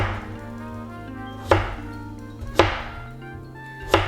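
Three sharp knife chops land on a cutting board as scallops are sliced thin, spaced about a second apart over a low background hum, close and clear with no voice.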